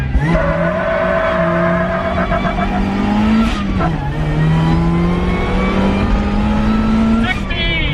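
Supercharged offroad Mazda Miata accelerating hard on pavement, its engine note climbing steadily through revs with a brief dip at a gear change, loud and close, with wheel hop chatter mixed in.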